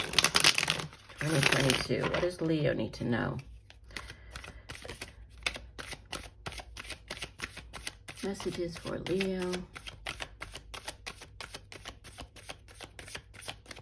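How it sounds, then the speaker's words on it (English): Rapid rhythmic riffling and slapping of a tarot card deck being shuffled, repeated crisp bursts running through the whole stretch, close to the mic, with someone speaking briefly over it at the start and middle. "I will give the deck a few more shuffles"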